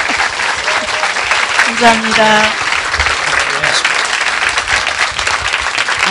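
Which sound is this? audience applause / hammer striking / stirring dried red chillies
audience applause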